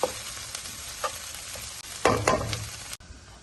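A spoon stirs a spaghetti sauce with green chillies and coriander in a frying pan, giving soft scrapes and a quiet sizzle, then a louder burst of scraping and frying near the end before it cuts off.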